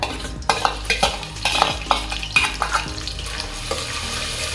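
Onion and caraway seeds sautéing in hot ghee for a vegetable biryani, a steady sizzle broken by repeated scraping stirs of a spoon against the pan, close and fairly loud with no talking.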